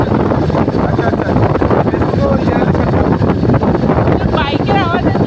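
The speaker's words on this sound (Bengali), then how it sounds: "বাইকের আওয়াজের জন্য না কিছু শোনা যাবে না।" A motorbike ride gives a loud, continuous roar with heavy wind buffeting on the microphone, while voices talk over it.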